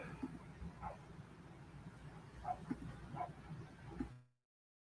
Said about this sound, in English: This damn barking dogs, and it ain't even mine this time.